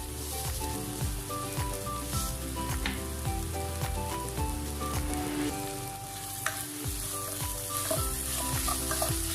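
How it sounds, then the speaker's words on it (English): Green chilies, curry leaves and salt sauteing in a pan for a spring roll filling, a busy close sizzle with repeated scraping strokes of a spoon stirring, steady throughout and no talking. "Add some chopped curry leaves and some salt and saute well."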